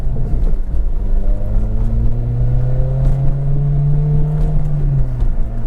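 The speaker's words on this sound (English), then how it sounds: "revving the 8K on this thing is fucking awesome." Acura RSX engine revved up, its pitch rising and sustained toward high rpm then easing off, loud and close over a few seconds with no speech.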